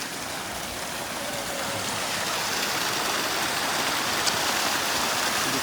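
Icy water from a glacier stream on the mountain route to Gurdwara Sri Hemkunt Sahib rushes in a loud, continuous, close hiss with no breaks.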